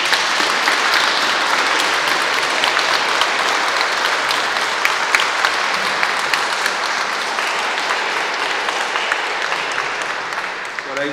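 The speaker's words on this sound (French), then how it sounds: "On peut l'applaudir." A church congregation at Saint Sixte II in Pérols applauds together, a dense, loud, sustained clapping that holds steady throughout and tapers slightly at the end.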